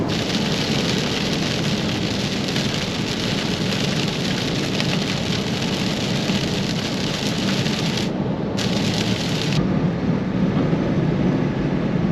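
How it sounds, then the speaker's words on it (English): Rain while driving in a car, a dense steady hiss of drops on the vehicle mixed with road noise, constant and close with no voices. "Hitting a little bit of rain"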